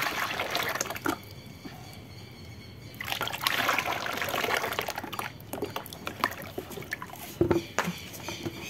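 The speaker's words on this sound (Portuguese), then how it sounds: "Já tá vindo água quente ali" Hot water pours into a container while homemade bar soap with baking soda is being made, a steady trickling and splashing stream that swells and fades, with light clinks and handling noises.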